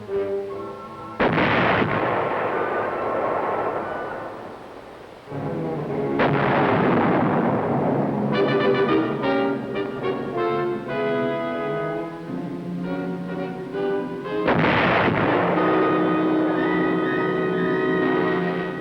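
Artillery battery of the Vietnam War era firing shells, three heavy booming blasts several seconds apart, each followed by a long rumbling roll and echo, loud and dominant.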